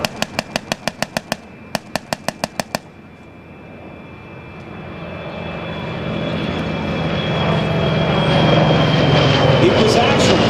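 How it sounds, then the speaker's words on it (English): A World War II carrier-based single-seat dive and torpedo bomber at an air show, heard as a rising propeller-engine roar that swells and nears over several seconds after sharp rhythmic clicks, with announcer talk over it. "The Navy in World War II had a requirement for a carrier-based, single-seat, long-range, high-performance dive and torpedo bomber."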